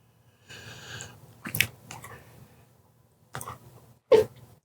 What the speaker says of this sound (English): That was my sneeze.